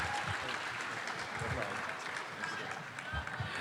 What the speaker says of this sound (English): please put your hands together for one last thank you round of applause for Mr. Glen Davis